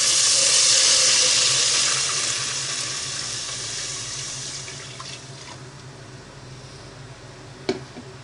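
Milk pours into a pan for sago vermicelli kheer, a steady liquid rush that is loudest at the start and gradually fades, with faint stirring and a single clink of a utensil near the end.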